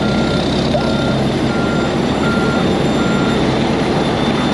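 A truck backs onto a boat dock, its reversing beeper sounding steadily over a constant loud engine rumble and broadband noise.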